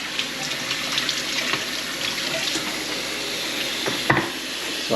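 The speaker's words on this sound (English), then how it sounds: "I'm just going to open it, rinse it a little bit" Water runs and splashes while a tea pot is rinsed out at a sink, a steady close wash of water with a small clunk near the end.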